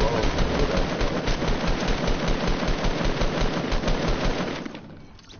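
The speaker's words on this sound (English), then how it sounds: "that minigun is freaking sick though" Minigun in the Fortnite video game firing a continuous rapid stream of shots, dense and loud throughout, easing off just at the end.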